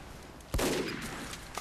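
A single loud gunshot blast from Team Fortress 2, sharp onset with a sustained noisy tail, rising out of quieter game ambience, followed by a brief second burst at the end.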